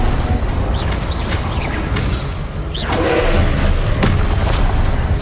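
Fiery Incendio spell blast in a Harry Potter video game: a loud, continuous roaring boom with whooshing bursts and thuds, heavy low rumble running the whole time with sharp flares layered on top.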